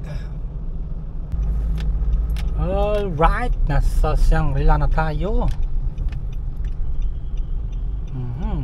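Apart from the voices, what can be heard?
car traffic noise in Manila on the way to Shangri-La EDSA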